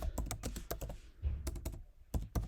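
Rapid clicking keystrokes on a computer keyboard, close and crisp in quick uneven bursts with a short pause in the middle, no voices.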